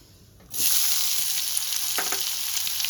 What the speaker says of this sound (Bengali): তেলটা আমার গরম হয়ে গেছে। এবার আমি কুচনো পেঁয়াজটা দিয়ে দেব।